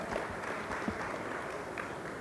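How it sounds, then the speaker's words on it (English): Faint applause from an audience at the opening press conference of the 2008 ALC, the Congressional Black Caucus Foundation event: an even, distant wash of clapping with no voices over it. "Give them a round of applause."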